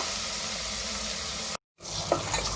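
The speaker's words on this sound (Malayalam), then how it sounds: "ഇതൊന്ന് ഫ്രൈ ആവട്ടെ" Split green chillies and garlic fry in hot oil in a pan, a steady close sizzle that drops out briefly in the middle, then resumes with a light tap, no voices heard.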